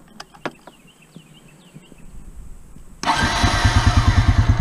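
Faint clicks and birds chirping, then a Honda Rancher or Foreman ATV engine cranks and catches suddenly, settling into a loud, steady chugging idle close by.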